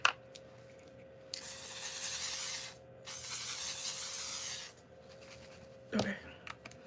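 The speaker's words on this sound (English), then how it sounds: "Let me just go ahead and do some setting spray while we're here." Two long hissing bursts of makeup setting spray misted onto a face, each lasting over a second with a short pause between, close to the mic and followed by light handling noise.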